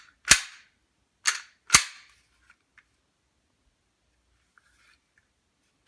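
Three sharp reports from an airsoft Glock 19 Gen 4 gas blowback pistol, the first alone and the last two close together, loud and crisp with short decays and no talk.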